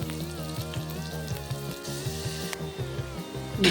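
Onions fry in hot oil in a pan for radish chutney, giving a steady, close crackling sizzle with a brief sharper spatter at the end.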